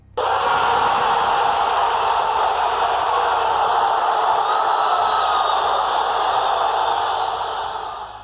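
A huge stadium crowd at La Bombonera roars and cheers for a Carlos Tevez goal, a dense sustained wall of voices that holds loud throughout before easing slightly at the end.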